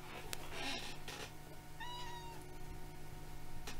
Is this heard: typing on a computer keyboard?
no